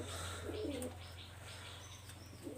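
Faint, low pigeon coos rise briefly and then fade into a quiet, steady room hum with no voices.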